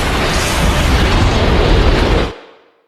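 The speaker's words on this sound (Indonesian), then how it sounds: "api kompor di samping koki yang memasak membesar dan meledak detik itu juga." A cooking-stove fire bursts and explodes beside a chef in a restaurant kitchen, giving a loud, roaring whoosh of flame that holds for about two seconds and then cuts off sharply into quiet.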